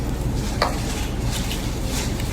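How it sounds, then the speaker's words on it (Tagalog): Tomatoes being stirred into a stew in a pot give a steady, close, wet scraping and churning, with one brief sharper scrape partway through and no voices. "Halo natin sa kamate."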